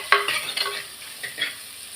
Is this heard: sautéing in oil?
yes